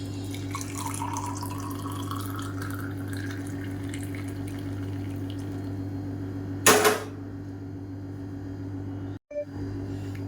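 Simmered home-remedy herbal water is strained, giving a soft, close trickle and drip over a steady background hum, with one brief louder splash partway through and a small clatter near the end.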